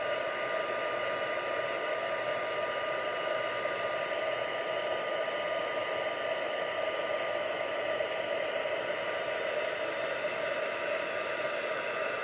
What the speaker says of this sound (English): It's going a lot faster now because the heat tool is all nice and hot.